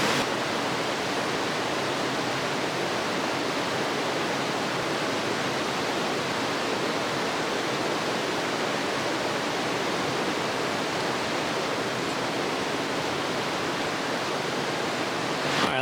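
Steady heavy rain pouring down at a campsite in the Ozark forest during a thunderstorm, a dense, unbroken hiss that stays constant and close throughout, with no voices.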